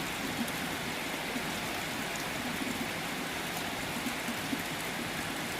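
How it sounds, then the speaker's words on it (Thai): Steady rain falls during the rainy season, a dense even hiss with spattering drops on surfaces, continuous and fairly close throughout, with no voices. "ฝนตกแห้งนะครับ พี่น้อง ช่วงนี้นะครับ ฤดู ฝนเข้ามาเต็ม ทีแล้วนะครับ"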